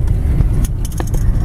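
A car rolls along a snowy winter forest road, its low engine and tire rumble close and constant, with light rattles and clinks from inside the cabin scattered over it.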